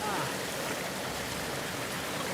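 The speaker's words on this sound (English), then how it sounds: "that water is flowing much better now" Stream water rushes steadily past a grill cleared of debris, a dense, close, continuous wash of flowing water with no break and no audible talk.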